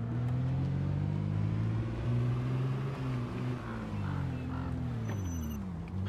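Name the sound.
vehicle driving on a road in the video game Project Zomboid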